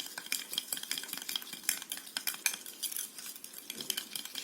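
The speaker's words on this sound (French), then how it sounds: "Je commence à bien mélanger tout." A spoon stirs a homemade vitamin C serum with collagen and hyaluronic acid in a small container, giving close, rapid clinks and scrapes in an irregular rhythm with no talking.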